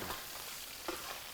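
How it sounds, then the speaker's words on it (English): Rice being stirred around in a pan to warm it up for a Chinese dish gives a faint, steady sizzle with soft scraping strokes and one slightly louder scrape, quiet and close without speech. "You stir your rice around"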